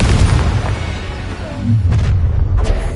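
Repeated booming spell blasts from the fire-spell Confringo in the wizarding video game Hogwarts Legacy, loud and close, with a heavy rumble through the fight and a couple of sharper bursts near the end.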